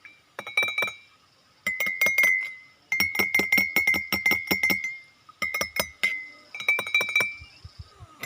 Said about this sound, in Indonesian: Lalu kita kocok supaya lebih rata.